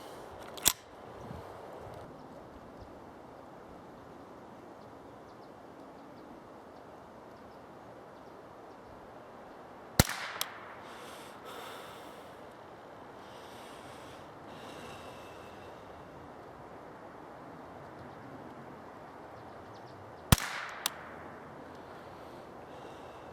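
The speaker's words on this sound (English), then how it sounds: "We'll take the barrel off." A 10-22 take-down rifle has its barrel removed, marked by three sharp metallic clicks spaced roughly ten seconds apart, each followed by a faint rattle over a quiet, hissy background.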